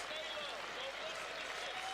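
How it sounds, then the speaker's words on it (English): Crowd applause fills Rupp Arena in Lexington during a Kentucky vs North Florida college basketball game, a steady wash of clapping with a commentator talking over it. "we'll get a nice round of applause from the folks here in Rupp Arena"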